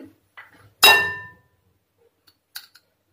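A metal spoon strikes a dish with one sharp, ringing clink that decays slowly, followed by a few faint softer taps, while salt is being added during preparation of steamed hilsa fish with mustard.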